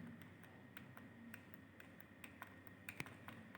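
Quiet typing on a computer keyboard: a string of light, irregular key clicks, close but faint, with no voices.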